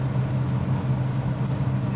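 An old classic BMW car on the road, with a steady low engine rumble and road drone from inside the cabin and no talking.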